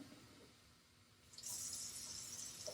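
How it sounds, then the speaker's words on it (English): Warm water pours from a tap into a container for communion bread dough, starting after a quiet moment as a steady close hissing stream. "you use 3 cups of warm water"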